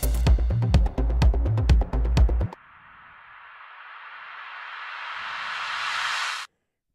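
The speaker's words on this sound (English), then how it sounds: "put a massive reverb on a snare, bounce it down as audio, and then reverse it, so you get a sound a bit like this." Reversed snare drum drenched in massive reverb, a wash of noise swelling steadily louder and cutting off abruptly, preceded by a few seconds of punchy drum hits.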